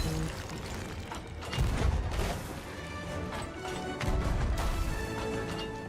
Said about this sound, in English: How many fucking cannons are gonna need to hit this guy?